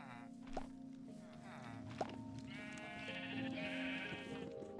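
Sheep bleat in a blocky survival-building game while a sheep farm is being set up, with a couple of sharp thunks and steady game ambience; the bleats are soft and sit amid background music tones.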